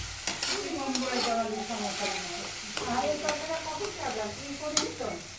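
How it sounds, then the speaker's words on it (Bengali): Curry simmers and sizzles in a pan with ginger, garlic, coriander powder, turmeric and salt, as a spoon stirs it steadily in a near, continuous frying hiss broken by scraping strokes, with no talking. "এখন আম্মার জন্য তরকারি রান্না হচ্ছে।"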